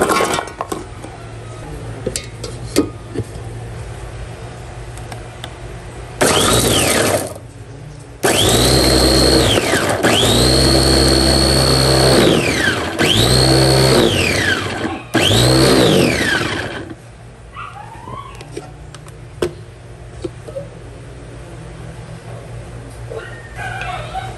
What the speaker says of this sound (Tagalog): Ito po ay ating ipo-food processor.